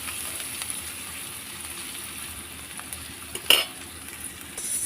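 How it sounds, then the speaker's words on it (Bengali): Sliced onions fry in oil in a pan in a home Bengali kitchen while being stirred. A soft, steady sizzle runs throughout, with one sharp clink of a utensil against the pan near the end. "দিয়ে পেঁয়াজগুলো আমি ভালো করে একটু ভেজে নিচ্ছি।"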